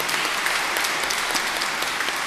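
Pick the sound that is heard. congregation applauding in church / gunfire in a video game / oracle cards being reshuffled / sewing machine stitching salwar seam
congregation applauding in church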